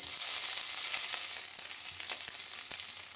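Ginger and garlic sizzle in hot oil over a high flame. A bright, hissing fry holds steady and close, with faint scrapes and pops throughout.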